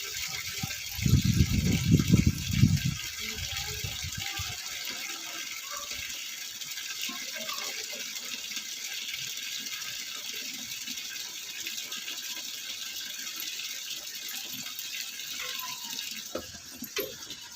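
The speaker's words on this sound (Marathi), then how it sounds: "थोडीशी तुरटी फिरवते आहे त्या पाण्याला" A lump of alum is swirled by hand in a vessel of water while making banana chips, with a brief close sloshing for about two seconds near the start, then only a steady background hiss.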